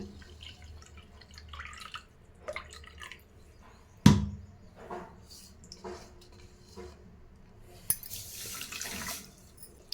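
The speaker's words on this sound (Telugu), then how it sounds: "అరకప్పు వాటర్ని అయితే యాడ్ చేస్తున్నాను" A sharp metallic clank and a few soft clinks, then a short burst of water splashing as half a cup is poured into a pan of sugar for syrup.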